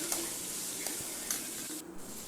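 Tomatoes being stirred into capsicum kurma in a pan, a soft steady sizzle with a few light scrapes and taps of the spoon, close and even, no talking.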